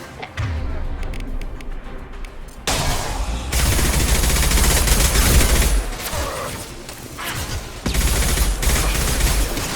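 Sustained gunfire from a Mass Effect 2 firefight, dense bursts and booms running almost without pause at close, loud level, with a brief lull then renewed volleys.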